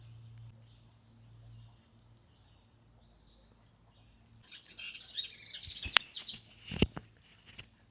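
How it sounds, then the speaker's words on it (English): Bright chirping bird calls break out midway through, rising over quiet outdoor background with a couple of sharp louder notes near the end. "I just want to make you guys hear this birdie."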